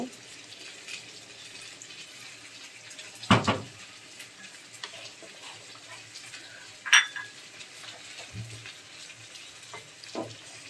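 Hilsa fish spice paste fries steadily in a pan after a little water is added, giving a soft, constant sizzle broken by a few sharp clatters and splashes.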